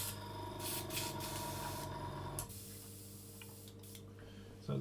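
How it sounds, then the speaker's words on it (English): Airbrush loaded with waterfall-effect paint for a model build hisses steadily with its air compressor running, a continuous broadband spray that drops in level partway through and keeps a low, even hum underneath. "compressor on"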